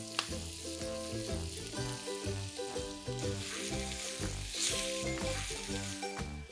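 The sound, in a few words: stir-frying potatoes, onions and capsicum on high flame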